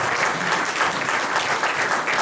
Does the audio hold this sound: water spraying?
no